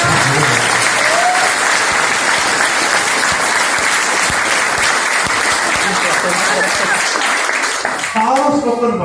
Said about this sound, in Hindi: ऊपर ताली बजा दो।